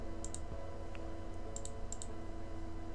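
Mouse clicks while picking colours in the game Rust: a few small, sharp clicks spread across the stretch, faint over a steady background hum, with no talking.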